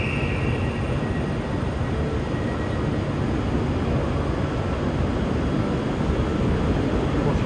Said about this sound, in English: departing now is the 1518 ScotRail Express service to Edinburgh